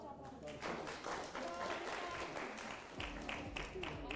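An audience at a televised talk-show event claps in sustained applause, moderately loud and filling the room, alongside some voices.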